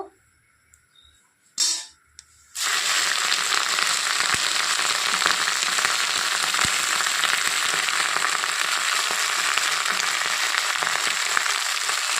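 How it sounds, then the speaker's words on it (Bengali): Jute leaves frying in a little mustard oil, a loud, dense, continuous crackling sizzle that starts abruptly after a few quiet seconds and a short thud, then holds steady and close. "একদমই অল্প পরিমাণে তেল দিয়ে দিয়েছি শাকটাকে একটু ভেজে নেব"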